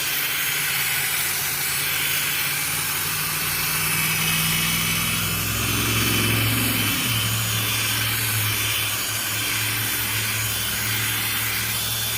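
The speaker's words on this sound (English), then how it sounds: "so we are done polishing it with our drill" A steady whirring hum of a drill polishing a car headlight lens with a Harbor Freight restoration kit, a constant broad hiss, continuous throughout and fairly close, with no talking.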